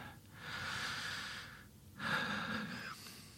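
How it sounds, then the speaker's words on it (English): Two slow, deep breaths taken close to the microphone, each a long airy inhale and exhale, separated by a short pause, with no talking over them. "Nice deep breath."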